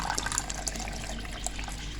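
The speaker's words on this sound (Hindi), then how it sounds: "मैं इसमें डालूँगी 1 कप, 1 गिलास नहीं 1 कप पानी डालूँगी इसमें" Water poured from a cup into egg curry gravy in a home kitchen, a steady close wash of liquid running throughout without a break.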